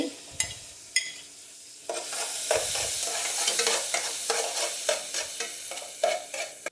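Butter melting with chopped garlic and ginger in a hot pan, a steady close sizzle broken by scraping stirs and a few sharp clinks of a utensil, with no talk.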